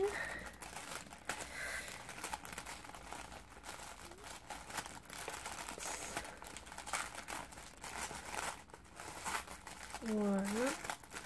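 Close, continuous crinkling and rustling of packaging as a Mycrazybox subscription box is opened, with a speaker talking over it and a brief voiced rising tone near the end.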